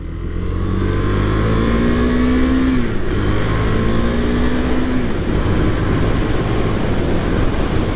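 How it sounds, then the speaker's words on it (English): A 2023 KTM 390 Duke motorcycle engine revs steadily and loudly from the rider's position, its pitch climbing through two rising sweeps, each cut off at a gear change, over continuous wind and road noise. "You do have to rev out the bike pretty good to get some power out of it."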